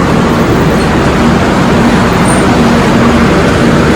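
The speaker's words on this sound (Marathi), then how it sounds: "ट्रेन आली आहे संगमेश्वर स्टेशनला" A Karmali to Lokmanya Tilak Terminus Holi special train stands at Sangameshwar station in the Konkan, filling the air with a loud, steady, broadband rumble and hum that holds without a break, with no voices.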